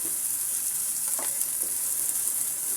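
Turmeric, chili powder, green chilies and onion frying in a pan give a continuous bright sizzle, with a brief stirring scrape in the middle.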